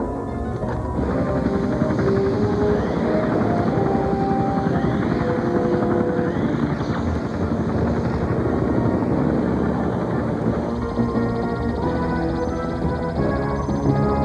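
A helicopter thrums steadily nearby, its rotor chop and engine whine loud and continuous throughout.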